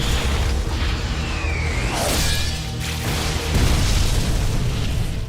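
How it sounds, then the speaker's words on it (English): A thrown blade explodes on impact in an animated fantasy battle, a loud booming blast with a whoosh, crashing debris and a rumbling tail that swells again near the end. "The blade explodes on impact, causing a massive explosion that shakes the area."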